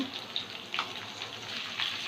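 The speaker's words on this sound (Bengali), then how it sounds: "আলুগুলো ভেজে নেব" Potatoes fry in oil in a home kitchen, giving a continuous close hiss and crackle with a few brighter pops scattered through it.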